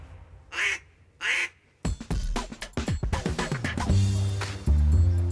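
Ducks quack during a duck hunt in Arkansas: two distinct calls ring out alone at first, then a dense run of rapid quacks and honking notes builds up close and loud.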